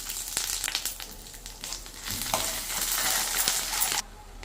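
Mustard seeds, cumin and kalonji fry in hot oil in a pan, a close steady sizzle dotted with sharp popping crackles that swells midway and drops off abruptly near the end.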